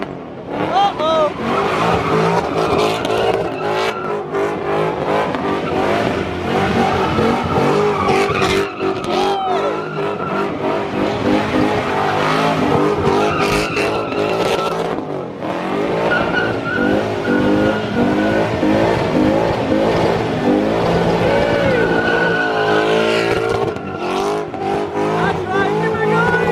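A Ford Mustang at a car meet revving hard and squealing its tires as it skids and loses control, engine and tire noise loud and continuous, with a crowd shouting and talking over it.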